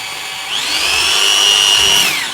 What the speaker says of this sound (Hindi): हमने ड्रिल मशीन लेना है और हमने ड्रिल मशीन से इसमें होल बनाना है।